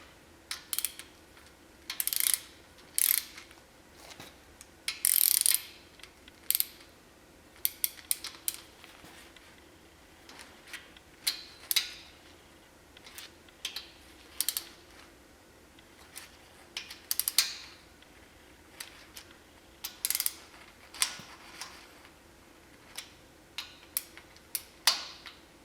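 Torque wrench tightening bolts on a Dana 44 front axle of a 1980 Chevy Silverado, giving scattered sharp ratcheting clicks and ticks in short irregular bursts, close up over a quiet background.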